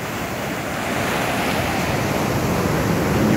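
Ocean surf breaking on a Hawaii shore makes a loud, continuous wash of rushing water and roar, steady throughout with some wind buffeting on the microphone.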